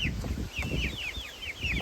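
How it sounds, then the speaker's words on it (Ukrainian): The youngest chicks and ducklings of a household flock keep up repeated high, chirping peeps close by, over a low rustle and murmur of the yard. "Такі вже курчатка, самі останні."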